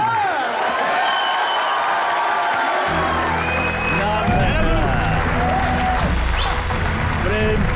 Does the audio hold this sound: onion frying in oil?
no